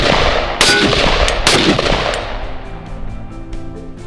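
Sharp gunshots strike a cheap $35 body armor plate, with several close, loud reports in quick succession early on and a ringing tail fading afterward.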